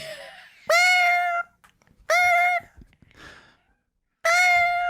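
A human voice imitates a cat with three drawn-out, close meows separated by pauses, with a breathy sigh between two of them.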